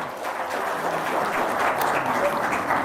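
Audience applause at a testimonial gathering holds as a steady, loud wash of many hands clapping, growing slightly fuller toward the end, with no talking.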